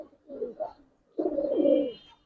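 A female pigeon gives soft low coos, two short ones followed by a longer rolling coo, close and fairly quiet.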